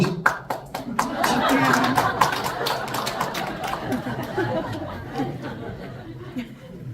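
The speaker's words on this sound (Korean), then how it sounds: "시장님만 박수 치시고 웃으셨습니다" At a peace education forum, a few brisk claps ring out up close, followed by scattered chuckles and murmuring chatter from the audience, with talk running underneath.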